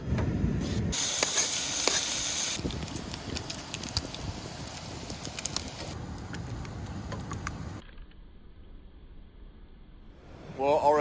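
English back bacon strips fry with beans in a pan outdoors on a beach fishing trip, giving a steady loud sizzling hiss that later drops to a quieter crackle.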